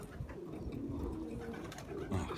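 A pigeon coos in a pigeon loft, soft low murmuring calls blending with faint rustling and background noise, steady and close.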